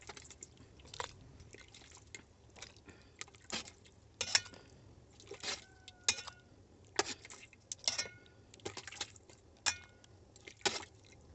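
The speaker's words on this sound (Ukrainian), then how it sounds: "ставимо жолобочок і накладаємо наш перчик у баночку" Peppers in tomato sauce spooned into a sterilized glass jar through a funnel, giving a series of soft wet squishes and light clinks of the spoon against glass at an irregular rhythm, close and fairly quiet.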